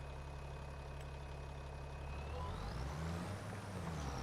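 A 300-horsepower tractor engine in Farming Simulator 25 idles with a steady low rumble, joined by a rising and falling whine in the second half.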